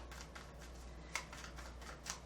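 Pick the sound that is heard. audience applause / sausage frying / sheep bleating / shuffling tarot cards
shuffling tarot cards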